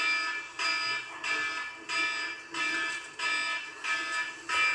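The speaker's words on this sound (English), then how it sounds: "Can't you pick a better alarm?" A phone alarm rings in a repeating pattern of short bright electronic bursts separated by brief gaps, steady and fairly close, with no talking over it.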